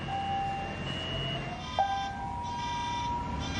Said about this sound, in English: to a fire alarm begging to be logged off